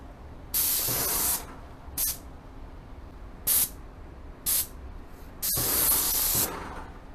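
A spray can or spray gun hisses onto a cardboard test board in five separate bursts: two long sprays and three short puffs, loud and close, with quiet gaps between them and no talking.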